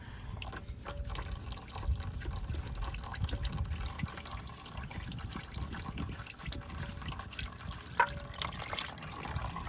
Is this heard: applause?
no